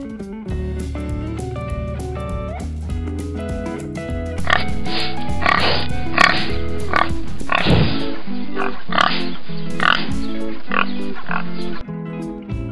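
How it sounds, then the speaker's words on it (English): A pig oinks in a farm-animal sound sequence, grunting repeatedly over a continuous musical backing that stays fairly loud throughout. "Pig."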